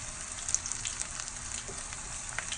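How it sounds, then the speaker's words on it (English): Cauliflower pieces frying in hot oil in a large pan, a steady close sizzle with small crackles and pops throughout. "I'm going to add these into the oil. And it's gonna be hot."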